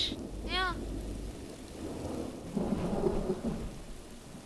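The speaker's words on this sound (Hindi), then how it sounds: "एक तो इतनी तेज बारिश है" Heavy rain hisses steadily under a low rumble of thunder that swells toward the end. A brief whistling tone sounds near the start.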